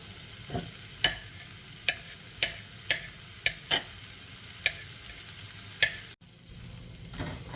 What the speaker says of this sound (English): Let that fry for a few minutes here.